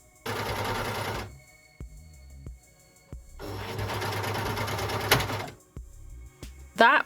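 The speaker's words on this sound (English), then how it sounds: "That was the sound of me breaking a needle" An overlocker sewing machine runs in two loud, fast-stitching bursts with a brief pause between, then a sharp snap at the end as its needle breaks.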